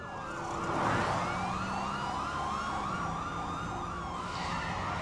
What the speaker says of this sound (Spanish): Cuando el hombre escuchó la sirena